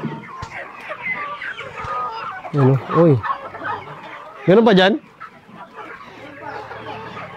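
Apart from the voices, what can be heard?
flock of chickens clucking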